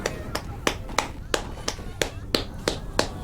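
Around ten sharp claps land in an even rhythm, roughly three per second, crisp and close, in the video game Totally Accurate Battle Simulator.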